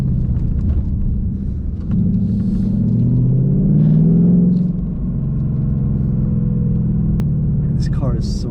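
A loud, close Ford Mustang GT engine roars through a hard second-gear acceleration on a rainy road, its deep pitch climbing steadily for a few seconds before settling back into a lower rumble.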